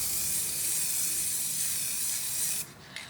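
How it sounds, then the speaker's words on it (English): A spray can hisses steadily as it coats a wooden sublimated door hanger, one continuous close spray for over two seconds, then a short stop and a brief final puff. "I'm going to spray across like that"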